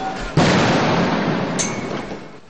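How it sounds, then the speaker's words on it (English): A sudden loud explosion bursts out and rolls into a long, rumbling decay, with a faint sharp gunshot crack partway through, during street clashes at Ratchaprasong, Bangkok. "as the gunfire and the explosions became more frequent"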